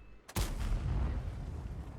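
A single heavy tank cannon shot in World of Tanks bursts out after a brief quiet moment, followed by a long, rumbling echo that slowly fades.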